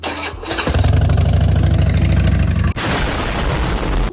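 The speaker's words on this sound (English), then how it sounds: "A little cold start." A Harley-Davidson motorcycle engine cold-starts up close: the starter cranks, the engine catches with a loud rumble and lumpy idle, then a brief cut and surge of revs.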